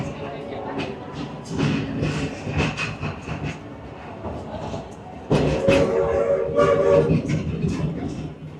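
The Walt Disney World Railroad train rolls through the Magic Kingdom with rumbling, clattering wagons and shifting rail noise. Passengers talk nearby over the ride.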